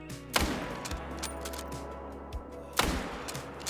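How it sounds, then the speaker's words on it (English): Two rifle shots ring out in theHunter Call of the Wild while a hunter aims at a raccoon dog, each a sharp loud blast with a decaying echo, the second about two and a half seconds after the first, over quiet outdoor ambience. "I think I'ma go for a neck shot instead"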